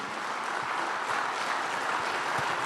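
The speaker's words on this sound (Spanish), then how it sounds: "demos un fuerte aplauso al Señor, porque eso sí que merece aplauso" A church congregation claps for the Lord in a dense, even burst of applause that holds steady at moderate volume.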